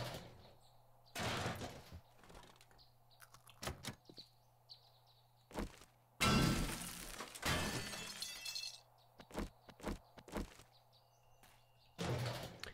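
Breaking through a door in the survival game 7 Days to Die: a series of loud crashing, splintering impacts come in irregular bursts, some long and heavy, others short knocks, separated by quiet gaps.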